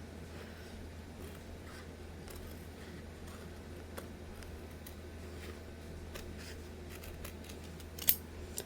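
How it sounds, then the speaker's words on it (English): Scissors trim kitchen towel fabric about a quarter inch from the edge, producing faint, repeated soft snips under steady room hiss, with a slightly sharper click near the end. "I cut it about 1/4 of an inch."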